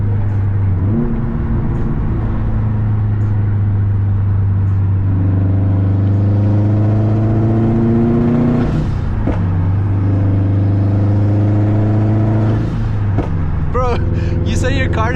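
A loud Subaru STI with a throaty exhaust idles and revs on a street, its engine note climbing and falling, with a few sharp pops near the end while people talk nearby.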